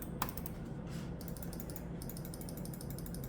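Rapid, crisp clicking from a Logitech G502 X gaming mouse's buttons, a dense run of small ticks that are close, fairly quiet and heard over a steady background hiss.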